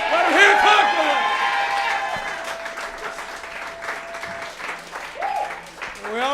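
An audience at a punk rock stand-up comedy show in Austin, Texas claps and cheers in a sustained burst, with voices shouting and whooping over the applause throughout.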